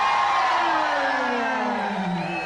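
A huge crowd in Porto Alegre roars and cheers at an election victory celebration, a continuous dense wall of voices and whoops swelling like a stadium wave, loud and unbroken throughout.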